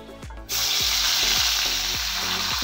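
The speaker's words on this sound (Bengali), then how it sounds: "আদাটা জিরেটা কিছুক্ষণ কষিয়ে নেব" Ginger and cumin paste fries in hot oil, bursting into a loud, dense sizzle after a quieter start and holding steady, with a regular low rhythmic thumping underneath.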